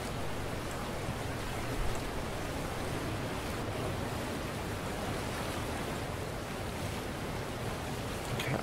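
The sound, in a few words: rushing water in a video game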